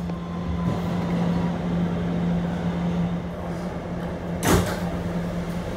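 An R211 subway shuttle train sits at a Rockaway line station with a steady low electrical hum and rumble throughout, broken near the end by a brief sharp burst like a door or air release.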